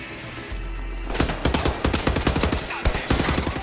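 Rapid automatic gunfire from Wolfenstein: The New Order rattles in quick repeated bursts, close and loud, with a short gap before the shooting resumes.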